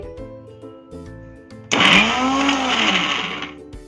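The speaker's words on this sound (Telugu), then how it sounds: "ఇప్పుడు మిక్సీ పట్టేయడమే అండి." A mixer grinder whirs loudly for about two seconds while blending a tomato and coriander chutney, starting abruptly and running steadily before cutting off, with no talk.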